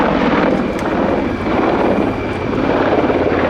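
A 10-ton military gunship helicopter flies a difficult nose-down aerobatic manoeuvre at an air show, producing a loud, continuous rotor and turbine roar that stays steady throughout.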